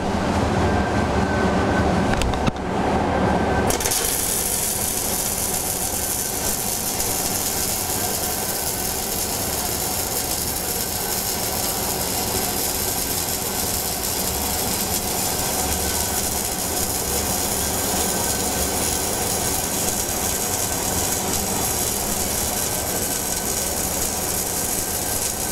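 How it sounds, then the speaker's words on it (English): Welding metal-core wire over heavy mill scale, a loud, steady frying crackle that starts abruptly after a brief pause and holds evenly to the end, with no speech. "We're going to take this and weld it on some heavy mill scale"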